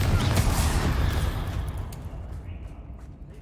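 Spell blasts from Bombarda and Confringo in Hogwarts Legacy, a loud, dense burst of explosive booming that fades into a rumbling decay over a few seconds, with no talking.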